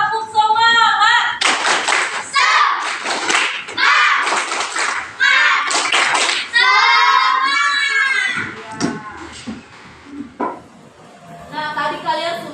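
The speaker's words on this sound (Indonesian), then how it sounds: "Coba tepuk semangat lagi deh biar semangat." A 5th-grade primary class does a rhythmic group spirit clap, bursts of claps in a set pattern mixed with children chanting and shouting together, loud and close in a classroom, with an adult voice between rounds.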